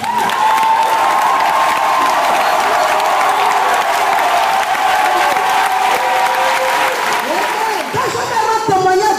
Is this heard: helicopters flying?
no